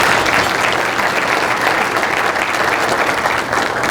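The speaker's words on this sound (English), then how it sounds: "Let's give them a round of applause." An audience at a county government address applauds steadily, a dense wash of clapping that holds at a constant, fairly loud level throughout.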